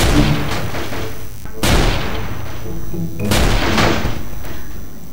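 Gunshots fired at targets in Garry's Mod, a video game, with two loud sharp blasts a couple of seconds apart and echoing tails, set against a busy background.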